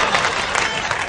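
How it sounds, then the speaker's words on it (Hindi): A short burst of audience clapping at a Hindi comic poetry gathering, a dense crowd applause close and loud over about a second. "मंच से चाहेंगे कि इनके लिए ताली बजा दीजिए आप लोग भी"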